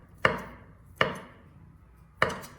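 A knife cuts sausages into small pieces on a cutting board, giving three sharp, separate chops spaced irregularly, close and distinct against quiet.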